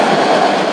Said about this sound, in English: that's the train, by the way.